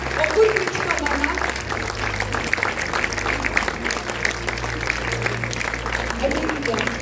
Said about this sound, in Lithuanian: Pasitikime plojimai